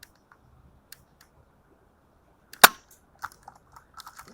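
Outdoor gunfire at a steel target: one sharp, loud shot stands out, followed by several fainter, spaced cracks and pings trailing off, with near silence before the first report.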